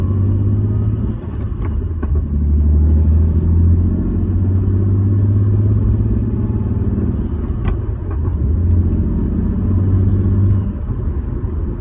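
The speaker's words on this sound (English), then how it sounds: "I can hear the fucking transmission." Inside a BMW 335i fitted with race engine and transmission mounts, a loud, steady low drone of engine and drivetrain rumble fills the cabin, with small swells in intensity and a few faint clicks over it.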